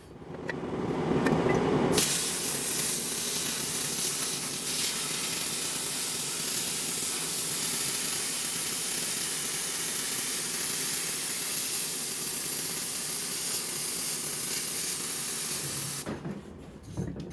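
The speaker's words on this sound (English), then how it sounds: "I got some steel down there that we're gonna use and cut up with the plasma cutter" A plasma cutter slices through steel plate for a hydraulic tube bender, a loud, steady hissing roar that runs for about fourteen seconds without a break and then cuts off, close up with no talk.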